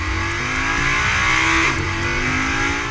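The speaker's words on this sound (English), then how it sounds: "Mated to that new S-tronic is the same wondrous V10 borrowed from Lamborghini that makes 525 horsepower and 391 pound-feet of torque" Audi R8 with a Lamborghini-derived V10 and S-tronic gearbox revs hard, its loud, continuous engine note climbing in pitch, briefly dipping, then rising again, with no talking.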